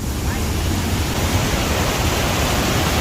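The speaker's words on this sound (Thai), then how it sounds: "น้ำตกตัดเลาะ" Rushing water at Tad Lo waterfall in Salavan, Laos pours as a steady, broadband roar, close and loud, with a faint voice briefly audible beneath the noise.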